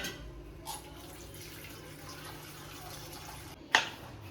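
A kitchen tap runs quietly for soaking pieces of hilsa fish, a soft steady trickle broken by a small splash near the start and a brief clatter near the end.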